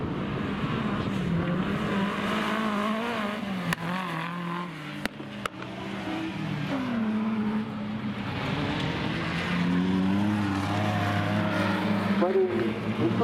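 Historic autocross buggies race at an amateur meeting in Werlte, Germany, with a continuous loud roar of revving engines rising and falling as they lap. Someone talks over the noise throughout.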